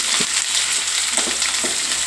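Onion frying in oil with dry red chilies, chana dal and curry leaves for cabbage palya, a close, steady crackling sizzle punctuated by a few soft stirring taps, no voices.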